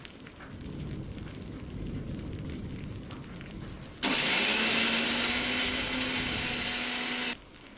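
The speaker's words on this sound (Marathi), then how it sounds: "थोडी कोथिंबीर आणि दोन लाल मिरची सगळे परतून घेऊन मिक्सरवर बारीक करून मिश्रण तयार करा" A kitchen mixer grinder whirs loudly for about three seconds as it grinds sautéed coriander and red chillies, cutting in abruptly over a steady hiss and stopping just as suddenly.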